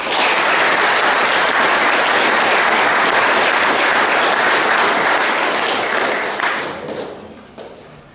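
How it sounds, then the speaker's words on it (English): Loud, sustained crowd applause at the opening ceremony of a junior golf tournament, a dense roar of clapping that holds steady and then fades away over the last couple of seconds. "Let's put a big round of applause to TCG and Brad."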